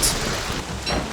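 Rain falls in the survival video game Don't Starve Together, a loud, dense, steady wash of hiss and patter with no voices.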